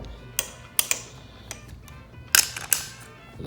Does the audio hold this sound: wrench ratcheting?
yes